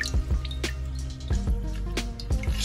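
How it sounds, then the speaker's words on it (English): Excess water dripping from squeezed leaf gelatin while making panna cotta, a handful of close, distinct drips and small splashes in an irregular rhythm against a quiet kitchen background. "Squeeze out any of the excess water"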